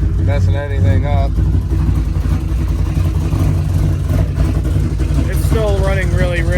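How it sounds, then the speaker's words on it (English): A car engine idling roughly while running rich rumbles steadily and close by, a low uneven drone under continuous talking. "It's still running really rich. It's got a big problem with idling."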